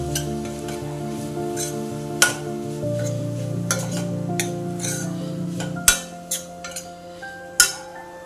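Mashed paneer bhurji stirred in a pan, a soft continuous scraping and faint sizzle with a few sharp clinks of the spoon against the metal rim.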